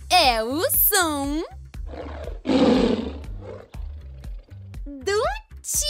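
A cartoon tiger's roar, a single broad, rasping growl rising in the middle, framed by lively animated voices talking before and after it.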